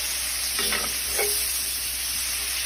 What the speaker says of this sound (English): we're going to saute those now real nice